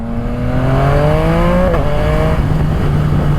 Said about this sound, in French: Là je vous laisse écouter le bruit qu'elle fait quand t'accélères, c'est un truc de malade